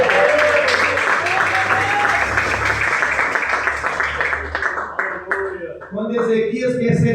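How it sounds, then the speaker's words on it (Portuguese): A church congregation applauding during a worship service, a dense wash of clapping heard under voices, with people talking and calling out as the clapping fades near the end. "Pode aplaudir o Senhor"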